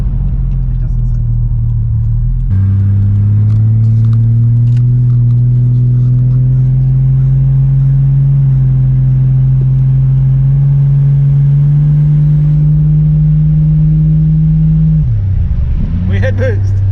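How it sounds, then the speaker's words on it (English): Mk3 Toyota Supra engine under load: a loud, steady turbocharged drone that climbs slowly in pitch as boost builds, then drops away near the end with a quick whooshing blow-off. "We hit boost. We got a little blow off too."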